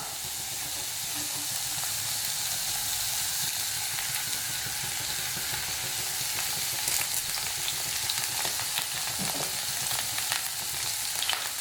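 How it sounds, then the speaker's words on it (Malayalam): Crushed shallots and curry leaves frying in coconut oil, a continuous close sizzle with a hiss that swells slightly toward the end and occasional stirring crackles, with no talking. "ഇനി ഈ ഉള്ളിയും കറിവേപ്പിലയും നമുക്ക് നന്നായിട്ടൊന്ന് മൂപ്പിച്ചെടുക്കണം"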